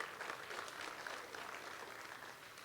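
A church congregation claps together, a soft, distant, continuous patter of many hands that holds steady and slowly fades, with no one speaking over it.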